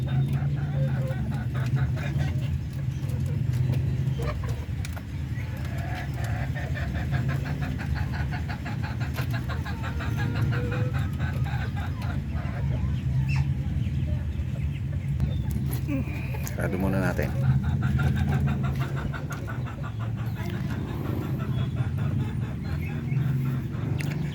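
A flock of breeder chickens clucking continuously in the background, steady and moderately close, with a person talking over them.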